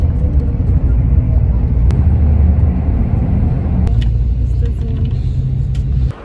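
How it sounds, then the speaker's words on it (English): A loud, steady, low engine rumble fills a long-distance bus ride in Thailand toward Bangkok, continuous and close throughout, then cuts out abruptly at the very end. "A couple of hours into the bus journey now, going very smoothly."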